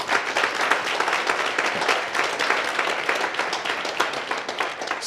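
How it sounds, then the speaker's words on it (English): Audience applause for event sponsors at a township business workshop, sustained dense clapping from a crowd that stays loud and even for five seconds with no voices over it. "can I please ask that we give them a round of applause?"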